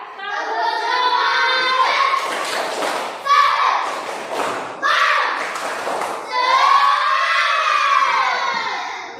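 A primary class of children chant together with group clapping in a rhythmic spirit-clap pattern, loud and close in a classroom.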